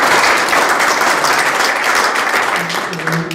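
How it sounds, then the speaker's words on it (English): Sustained applause from an audience at a court candidate forum, dense continuous clapping filling the room at steady volume, with a little voice noise underneath toward the end. "Give her a big applause."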